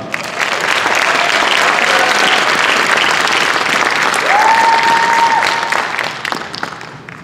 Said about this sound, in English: Please give a round of applause to Maria Ariano.